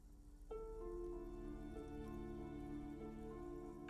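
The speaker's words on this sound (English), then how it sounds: "Rain falls on its slick black streets." Steady rain falling on slick black city streets in the video game Disco Elysium, a continuous hiss under sustained tonal music that swells in after a quiet start.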